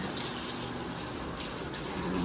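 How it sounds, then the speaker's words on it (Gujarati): Soapy powder-mixed water poured onto a floor for cleaning at home: a steady, loud rushing gush of water spilling and spreading, continuous and close with no voices. "કેવી રીતે આમ નીચે પાણી નાખવું"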